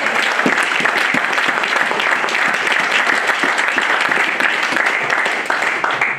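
A church congregation bursts into loud, sustained applause and cheering, a dense wash of many hands clapping near and steady for several seconds.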